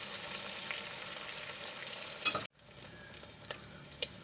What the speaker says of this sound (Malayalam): കൊഞ്ച് കൃത്യമായിട്ട് മുരിഞ്ഞ് വന്നിട്ടുണ്ട്